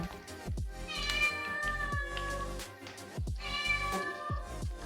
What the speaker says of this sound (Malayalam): പൂച്ചക്കുട്ടി എന്നെ നോക്കി കരഞ്ഞുകൊണ്ടിരിക്കുന്നത് കേട്ടോ